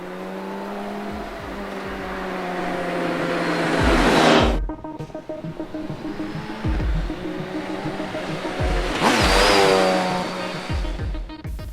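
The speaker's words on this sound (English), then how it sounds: "you can roll on in 50 k's an hour, 6th gear, 2 up, and it will just smoothly cruise away" A BMW K1600GT motorcycle's engine rises in two long accelerating pulls, each building to a loud peak and then cutting off sharply before the next gear, heard close with steady wind noise and no talking.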